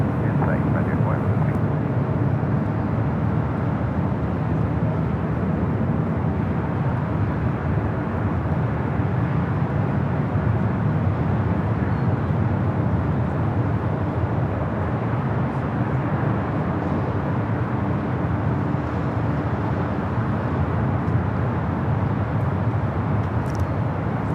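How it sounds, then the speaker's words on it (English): A heavy United Boeing 787 Dreamliner arriving from Tokyo Narita lands on runway 24 right at LAX, a steady, continuous broadband jet roar that holds loud throughout. "Starting off with a heavy United Dreamliner coming in from Tokyo, Narita"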